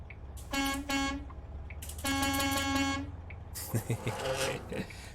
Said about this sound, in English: I love the air horn on this.